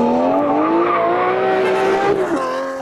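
A Lamborghini Murcielago's engine holds a loud, rising, sustained rev, then drops off near the end.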